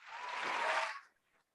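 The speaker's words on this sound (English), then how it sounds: "Please give a round of applause and a warm welcome." A short burst of applause welcoming a podcast guest, a soft wash of clapping that swells for about a second and then cuts off abruptly, faint and brief.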